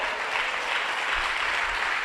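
An audience at a Christian ministry gathering claps steadily, a continuous, evenly dense round of applause from many people with no voices standing out.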